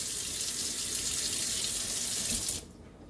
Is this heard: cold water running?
yes